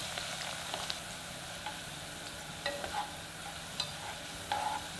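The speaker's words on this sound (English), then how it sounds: "Over low heat, add the avocado oil or other high smoking point oil. And shallot. And fry until golden brown" Shallots fry in avocado oil over low heat, a soft, even sizzle hissing steadily with a few faint pops and light ticks, gentle and close without speech.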